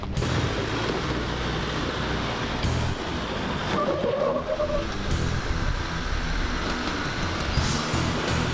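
A big Iveco 4x4 truck climbs a steep hill in bushland near Narbethong. Its engine gives a steady, muffled rumble from a distance and holds a constant level throughout.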